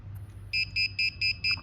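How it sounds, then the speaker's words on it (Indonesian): An ESP32 gas-detector robot's buzzer sounds five short, shrill beeps in a quick, even rhythm over a faint low hum. "saya membuat sebuah robot atau animasi robot untuk mendeteksi gas, dan disitu diperingatkan oleh si buzzernya"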